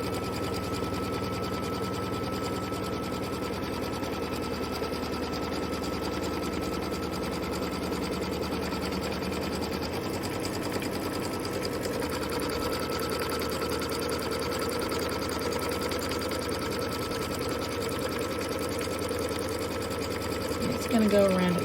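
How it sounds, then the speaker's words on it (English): Sewing machine stitching down a tack-down line on a quilted Kimberbell Cup of Cheer project, running as a steady, fast, continuous mechanical whir that holds throughout, with a person talking at times. "we're going to tack this down or stitch it back down like we did on the batting"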